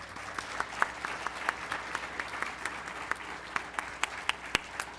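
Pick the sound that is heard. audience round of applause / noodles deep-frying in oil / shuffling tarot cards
audience round of applause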